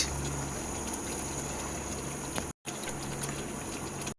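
Water poured into a simmering spiced curry for Bengali doi katla fish gives a soft steady rush and bubbling, quiet and continuous with a momentary cut partway through.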